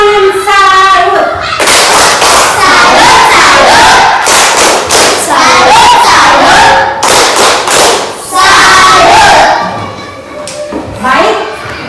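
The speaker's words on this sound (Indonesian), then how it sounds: "kita tepuk tangan salut untuk kelompok 2" A classroom group loudly applauds and cheers together, with dense rhythmic clapping and shouting voices lasting several seconds before a teacher's voice returns near the end.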